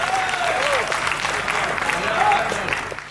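An audience applauding at a live event, with a dense wash of clapping from many hands that stays strong for about three seconds before starting to fade, while a speaker talks over it.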